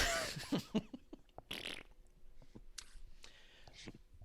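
A fart sound effect on a wrestling talk show, several wet, squishy blasts of varying length, loud and close, with short pauses between bursts.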